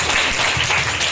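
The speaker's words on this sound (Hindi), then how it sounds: "हालेलुया, जोरदार ताली बजाएं।" A church congregation claps loudly together, a dense, steady wash of many hands filling the room for a brief moment.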